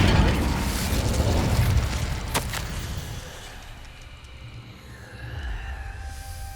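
Incendio fire spell cast in Hogwarts Legacy, a loud whooshing burst of flame with a sharp crack early on, fading into a softer roaring tail.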